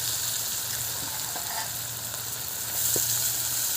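Chopped tomato and spices fry in hot oil, giving a steady close sizzle throughout, with a brief utensil tap and a slight swell in the hiss near the end.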